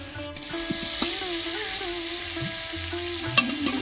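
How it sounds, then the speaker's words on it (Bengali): Winter vegetables frying in a pan for bhoger khichuri, a steady close sizzle with occasional stirring scrapes and clinks, no talk. "তো দেখো সবজিগুলো ভেজে নিয়েছি যাতে কাঁচা গন্ধ না থাকে।"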